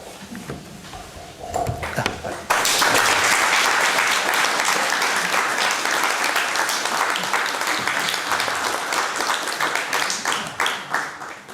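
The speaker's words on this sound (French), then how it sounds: "je crois que vos applaudissements montrent à quel point vous avez apprécié ces exposés." A debate audience at a French lecture on democracy bursts into loud applause after a couple of quieter seconds, the dense clapping rising sharply and continuing strongly to the end.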